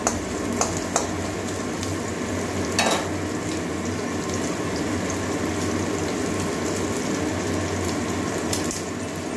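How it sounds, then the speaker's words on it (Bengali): Chopped onions frying in oil until reddish brown for a soybean, cabbage and potato curry make a continuous close hiss with a low steady hum and a few faint clicks, with no talking. "পেঁয়াজটা লাল লাল করে ভেজে নেব"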